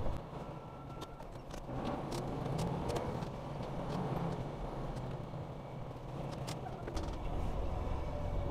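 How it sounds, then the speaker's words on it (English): A FedEx delivery truck rolls in toward a FedEx location, its steady engine rumble continuous and moderately distant amid outdoor background noise. "You see that truck coming in?"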